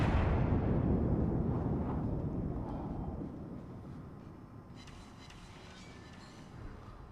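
A naval gun salvo from a French cruiser in World of Warships, a loud rumbling boom that slowly decays into a long echoing roar. Fainter crackles follow near the end.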